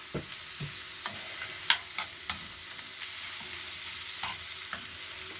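Chopped onion and zucchini frying in oil in a pan, a steady hiss of sizzling with scattered clicks and scrapes of stirring, close and moderately quiet, no voices.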